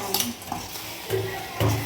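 A utensil scrapes and clatters against a pot of meat curry simmering on low heat in three short bursts, with a faint sizzle of cooking in between.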